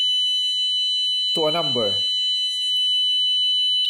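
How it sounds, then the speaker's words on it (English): Car plate tracker alarm system sounding a continuous high-pitched electronic beep tone, loud and steady throughout, with a brief spoken phrase partway through. "now you hear the alarm"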